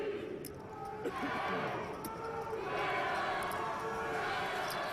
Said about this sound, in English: A new cheer from the group.